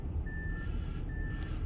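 A truck's reversing alarm gives two evenly spaced, thin high beeps, faint and distant over a low rumbling outdoor background, with no talk.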